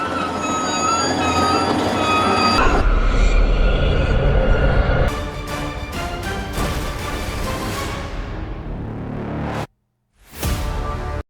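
In a 2005 horror film scene, a train carries a rider home with a steady loud rumble of wheels on rails, rhythmic clatter and squealing, then a brief drop to silence before the noise returns.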